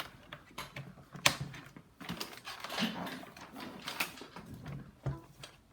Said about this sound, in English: This is a really nice keyboard, by the way. I like it. It sounds great, feels great, very tactile.